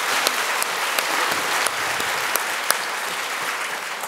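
An audience at a university graduation ceremony applauds steadily, dense clapping from many hands filling the room with a few sharper claps standing out.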